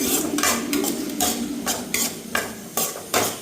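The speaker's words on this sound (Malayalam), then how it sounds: "ശേഷം നമ്മൾ പിന്നെ നന്നായിട്ട് മിക്സ് ചെയ്ത് കൊടുക്കാം." Onions are stirred in a pot for chicken stew, with repeated scraping strokes of a spoon against the metal at a steady rhythm over a soft sizzle, close and clear with no voices.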